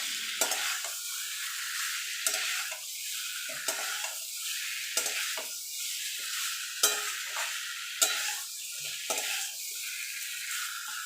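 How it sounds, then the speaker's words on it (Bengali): Papaya and potato pieces stir-fried with spice paste in a pan, with repeated scraping stirs every second or so over a continuous bright sizzle, close and fairly loud. "এবার পেঁপে আলুটা দিয়ে দেব দিয়ে ভালো করে পেঁপে আলুর সঙ্গে মশলাটাকে কষিয়ে নেবো"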